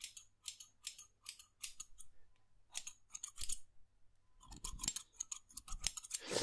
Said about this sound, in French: Donc il y avait le ciseau.